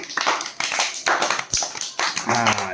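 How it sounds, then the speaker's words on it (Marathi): A group of children clap their hands together in several short bursts of fairly loud, uneven claps, with brief pauses between them and a faint voice near the end. "चला हात वर करा आणि टाळ्या वाजवा आपल्या सगळ्यांसाठी"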